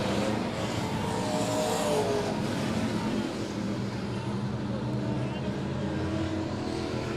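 Race cars roar around the dirt oval at Monett Motor Speedway in a steady, distant rumbling drone, with an announcer talking over the engine noise.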